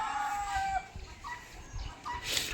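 A faint, brief chicken call, a drawn-out tonal crow followed by softer clucks, from a village household setting. It sounds somewhat distant and stands alone against quiet background noise.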